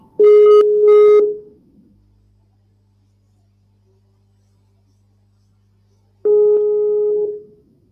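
Outgoing WhatsApp call ringing tone: two quick buzzy tones, a pause of several seconds with a low hum, then another longer ring, loud and clear with no talk.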